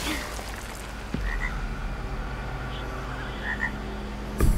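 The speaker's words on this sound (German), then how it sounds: "wir haben ja eine Kröte gefunden" A toad croaks in the video game Blacktail outside a forest hut: a low, repeated guttural croak over quiet ambient game sound, with a couple of faint higher chirps and a sharp knock at the end.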